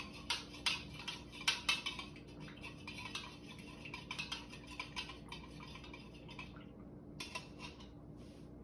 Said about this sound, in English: I'll stir until all the salt goes away